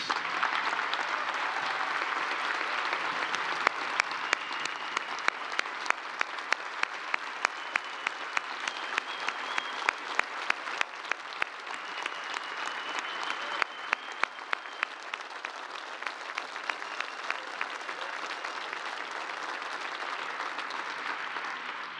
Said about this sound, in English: Let's give these families another round of applause.